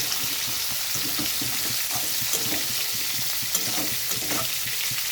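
Green chilies and whole cumin fry in hot oil, making a continuous, loud, even sizzle with small crackles and no voices.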